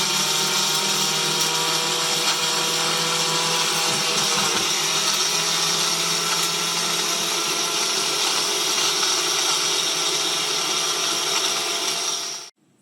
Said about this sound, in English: we're going to try it in the blender